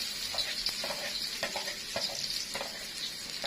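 Garlic fries in hot oil in a wok with steady crackling sizzle and occasional clinks of a utensil stirring the pan.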